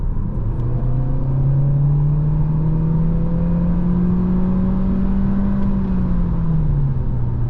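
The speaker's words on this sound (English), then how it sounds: "when I go in full gas now" A 2022 Audi A3 35 TFSI sedan with a 150 hp engine accelerating at full throttle in sport mode, its steady engine drone rising smoothly in pitch over several seconds from inside the cabin.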